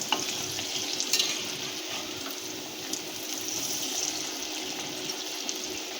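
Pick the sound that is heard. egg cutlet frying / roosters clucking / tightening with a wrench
egg cutlet frying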